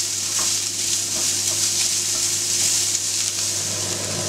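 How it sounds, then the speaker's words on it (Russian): Chopped onion and minced meat fry together in a pan, a continuous bright sizzle with light stirring clicks, close and steady without any talk. "Добавим лучок и обжарим все вместе"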